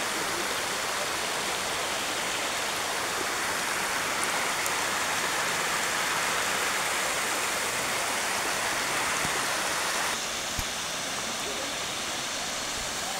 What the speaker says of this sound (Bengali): এই পানিটাই নিচের দিকে পড়তেছে।